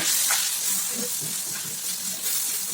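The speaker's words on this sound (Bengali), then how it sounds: "টুকরো করে রাখা টমেটো আর কাঁচা লঙ্কা এর মধ্যে আমি দিয়ে মিনিট খানেক মতন একটু নাড়াচাড়া করে নিচ্ছি" Chopped tomatoes and green chillies sizzling steadily in a hot pan with turmeric, as poha pulao is stirred, a continuous close frying hiss with faint scraping, no talk.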